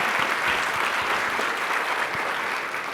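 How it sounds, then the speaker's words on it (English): An audience at an inclusion conference applauds itself, giving a short, even burst of many hands clapping together at moderate loudness. "So give yourself a clap."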